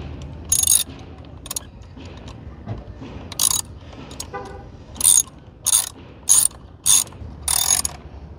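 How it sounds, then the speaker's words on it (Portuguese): A ratchet wrench turns clockwise on fasteners of a Kawasaki Versys 650 motorcycle during tank removal, with several sharp, close clicking bursts spaced irregularly over faint background noise. "Inverter a chave catraca agora, para o sentido horário."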